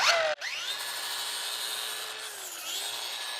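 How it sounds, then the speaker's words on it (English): A sanding disc machine dresses the end of a cut bolt, whining steadily with a bright, sustained grinding tone after a brief sharp start, running alone without voices. "I just use this sanding disc do a quick little dressing on it"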